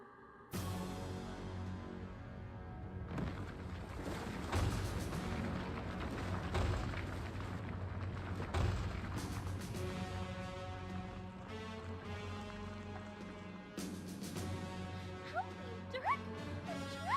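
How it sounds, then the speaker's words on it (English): Explosions erupt in the Dragon's Lair 3D video game after a mana cell is placed in a station, a long run of booming blasts and rumbles layered under dramatic music. "Put this mana cell in the station and watch the fireworks."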